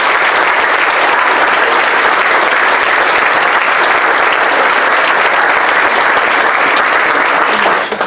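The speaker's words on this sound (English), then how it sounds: "Can you give them a round of applause?" A school theatre audience gives the sound and lighting team a loud, sustained round of applause, a dense, unbroken wash of clapping that fills the hall from start to finish.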